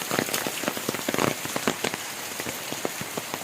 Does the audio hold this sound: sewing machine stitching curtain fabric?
no